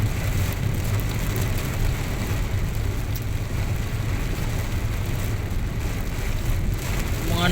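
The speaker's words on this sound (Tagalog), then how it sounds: "Grabe, ang lakas ng hangin." Strong wind and heavy rain roar together, a dense, steady broadband wash of rushing air and pounding rainfall that holds unbroken for the whole stretch, close and loud, with no voices.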